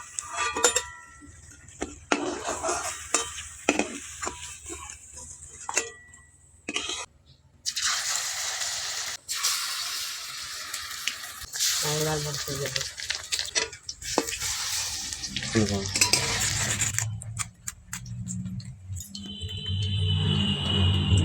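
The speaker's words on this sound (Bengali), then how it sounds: "এইভাবে উল্টে পাল্টে ভেজে নিতে হবে" Stinging nettle leaf snacks frying in oil in a wok, a continuous sizzle broken by scraping and turning with a metal spatula, clinks against the pan, close up and loud.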